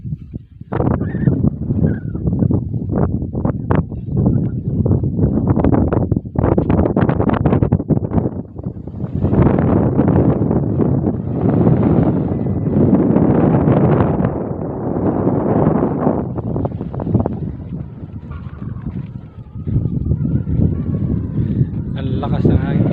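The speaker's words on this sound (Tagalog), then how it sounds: "Ang lakas ng hangin guys." Strong sea wind on a hilltop buffets the microphone in loud, continuous gusts and roaring blasts, easing briefly now and then before surging back, with someone talking at times under the noise.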